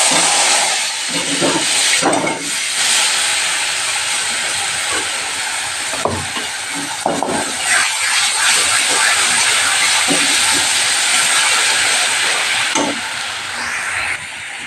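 Spices dropped into a hot pan while cooking, a loud continuous sizzling hiss with bursts of crackle and occasional clatter of a utensil, close up throughout.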